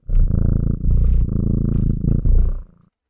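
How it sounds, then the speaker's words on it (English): A cat purring close up, loud rhythmic rumbling in several long pulses following its breaths, alone without any talk, lasting about three seconds. "found some purring."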